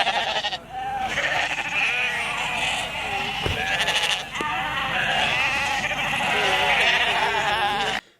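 Many sheep bleating together during herding in Iceland, a dense, continuous chorus of overlapping calls, loud and close, with a couple of brief knocks partway through.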